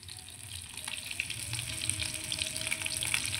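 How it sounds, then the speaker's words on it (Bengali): Pieces of rohu fish fry in hot oil, crisping with a steady soft sizzle and scattered crackles that build slightly louder over a few seconds, with no voices. "আগে রুই মাছগুলো ভেজে নিতেছি সুন্দর করে, মচমচে করে রুই মাছ আগে ভাজবো"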